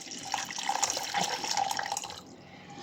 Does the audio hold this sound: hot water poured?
yes